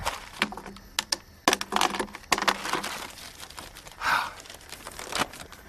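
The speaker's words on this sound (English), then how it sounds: "Pass me the keys to the safe." Keys to a safe jangle and clink in a run of sharp, irregular metallic rattles, fairly close and loud, with some crinkly handling noise between the bursts.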